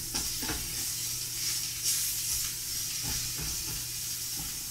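Broccoli florets sizzle and hiss in a frying pan, a soft, steady crackling wash with occasional stirring scrapes, fairly quiet and close, with no one speaking.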